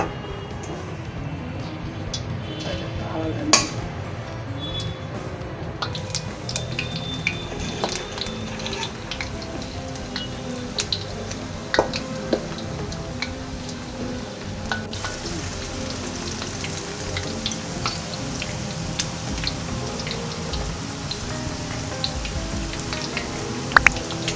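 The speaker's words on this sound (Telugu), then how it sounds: "ఆయిల్ వేడెక్కినాక ఈ దొండకాయ కలిపింది ఇలా ఒక్కొక్కటి వేసుకోవాలి." Ivy gourd pakoras fry in hot oil in a kadai, giving a steady bubbling sizzle that runs the whole time, with occasional sharp pops and utensil clinks standing out.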